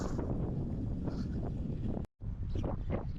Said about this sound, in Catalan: Fa una mica de vent.